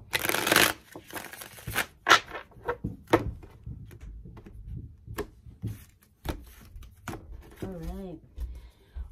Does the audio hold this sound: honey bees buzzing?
no